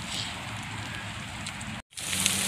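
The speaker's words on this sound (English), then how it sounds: "It's starting to rain pretty good out here" Rain falls steadily outdoors in spring woods, a dense, even hiss of drops with a brief gap of silence before it resumes.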